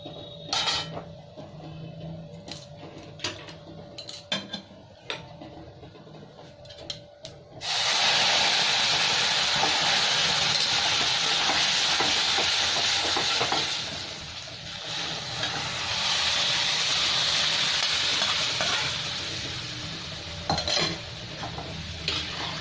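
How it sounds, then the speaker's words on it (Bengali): Moong dal lentils hitting hot oil tempered with cumin, bursting into a loud, steady sizzle after a stretch of quieter clinks and stirring, the frying hiss holding strong with a brief dip midway, no talking. "এবার আমি ডালটা দিয়ে দিচ্ছি এর মধ্যে"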